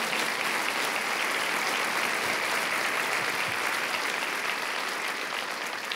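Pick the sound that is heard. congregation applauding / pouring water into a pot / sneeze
congregation applauding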